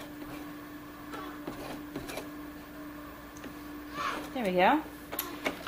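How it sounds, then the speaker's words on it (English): A sewing machine is hand-cranked through its last few stitches on fabric, giving soft mechanical clicks and whirring with a tonal squeal near the end, while a voice speaks briefly. "I'm actually going to stop and hand crank the last few stitches"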